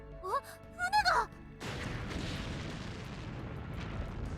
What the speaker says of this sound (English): An explosion lights up the pitch black ocean like a firework.